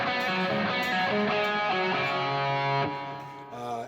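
Electric guitar playing a riff slowly, rapid pull-offs to open strings ringing in a clear, sustained sequence of distinct notes, played alone.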